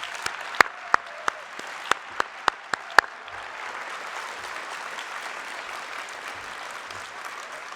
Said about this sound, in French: Je crois que ça vaut une bonne main d'applaudissements.